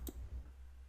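A single sharp computer mouse click, close and fairly quiet, with a faint low hum underneath and no talking.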